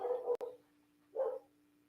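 A farm dog barks twice outdoors, two short hoarse yaps then another after a pause, moderately close, with a faint steady hum underneath.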